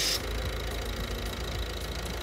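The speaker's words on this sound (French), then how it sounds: "notre produit circule et là on l'entend, il est aspiré par le moteur" Car engine idling steadily while Bardahl air intake cleaner is drawn into the intake, a close, continuous low rumble with a faint hiss, no talking.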